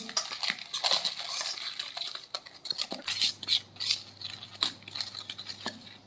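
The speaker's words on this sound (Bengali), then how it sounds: "এবারে আমি ভালো করে আবার মিশিয়ে নেব" A spoon clinks and scrapes in a bowl as pointed gourd spring roll batter is mixed with garlic paste, ginger paste and chilli powder, giving irregular metallic taps and stirring sounds that are close and clear.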